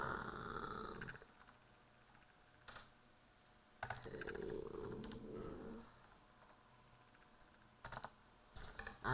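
Typing on a computer keyboard while building a website, with short bursts of soft, close key clicks separated by quiet pauses and a faint steady background hum.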